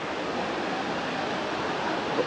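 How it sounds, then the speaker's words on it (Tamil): Aintharuvi, the Five Falls waterfall at Courtallam, gives a steady, loud, close rushing roar of falling water, an unbroken broadband wash with no other sound. "வந்தாச்சு நம்ம ஐந்தருவி."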